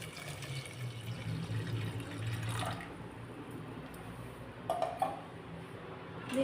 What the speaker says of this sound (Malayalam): ഇനി ഏകദേശം ഒരു അരക്കപ്പ് കപ്പ് അളവിൽ വെള്ളം ഒഴിച്ചു കൊടുക്കാം